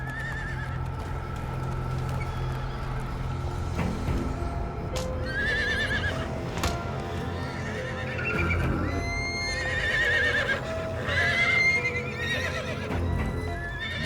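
A spooked prized mare neighs again and again, with shrill whinnies over clip-clopping hooves and restless livestock noise, loud and close throughout.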